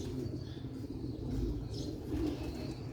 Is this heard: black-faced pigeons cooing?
yes